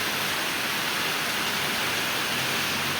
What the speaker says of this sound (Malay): Hujan lebat di kawasan Renak Baru Gomusang.